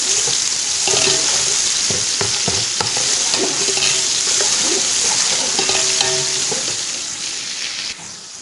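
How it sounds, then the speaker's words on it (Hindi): Ginger-garlic paste with cardamom and cinnamon pieces frying in a pan for chicken karahi, a loud continuous sizzle broken by repeated scraping and stirring of a spoon against the pan. "मैंने 2 मिनट इनको फ्राई कर लिया, इनका कच्चापन दूर हो गया"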